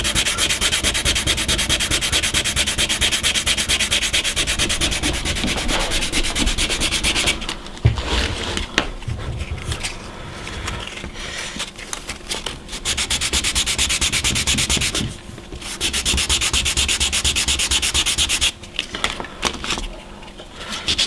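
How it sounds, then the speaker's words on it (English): Coarse sandpaper rasps steadily against a wooden ship-model part in long, continuous strokes, close and loud. Brief pauses break the scraping now and then. "And he's using a relatively coarse sandpaper."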